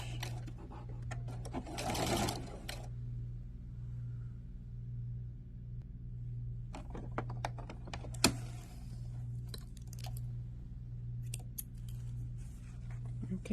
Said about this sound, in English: again it is on stitching the seam allowance to the bias tape.